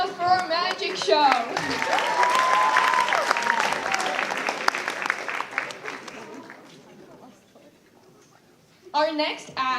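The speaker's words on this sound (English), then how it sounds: "Let's give another round of applause for our magic show." A school talent show audience applauds and cheers after a magic act, a loud burst of clapping that swells and slowly fades, with voices talking over it and a host speaking again at the end.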